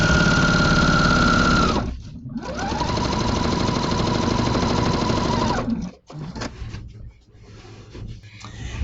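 A sewing machine fitted with a walking foot stitches a quilt in a steady, loud, close whir, with a short pause near two seconds and a brief stop around six seconds before it resumes more unevenly.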